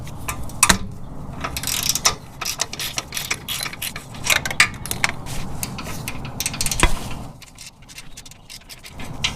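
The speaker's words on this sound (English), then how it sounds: "Because of this flex head ratchet, I'm able to get on there." A flex head ratchet working oxygen sensor nuts loose on a car exhaust, heard as rapid close clicking pawl ratchets in repeated bursts with metallic knocks, then quieter toward the end, no talking.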